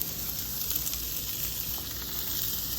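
Butter frying on a hot Blackstone flat-top griddle beside red drum fish fillets, a steady close hiss and crackle with fine popping, continuous and even throughout with no talking.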